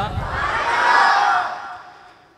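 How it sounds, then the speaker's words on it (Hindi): Large crowd at a religious gathering loudly chanting Subhan Allah together in response, a single sustained swell of many voices that rises and fades over about two seconds. "सारे साथियों ने बुलंद आवाज़ नाल कहना है सुबहान अल्लाह"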